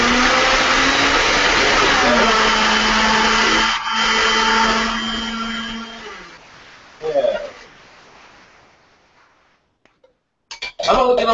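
A kitchen blender purees vegetables with broth, a loud steady whirring drone that runs for several seconds, sags, then cuts out, followed by a few clinks and knocks; voices talk over the motor.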